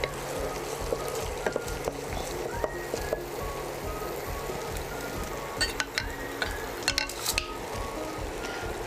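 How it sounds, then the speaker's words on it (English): Onions frying on medium heat for a black pepper chicken curry, a soft continuous sizzle with scattered scraping and clinking of a spatula against the pan. "fry the onions only on medium heat, and always keep scraping the pan"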